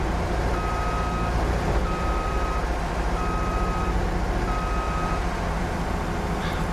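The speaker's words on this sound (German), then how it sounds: "steigen in den Drescher und fahren rückwärts." Reversing beeps from a combine harvester in the Farming Simulator 22 game, four evenly spaced electronic tones sounding steadily over a constant low engine rumble, with no talking.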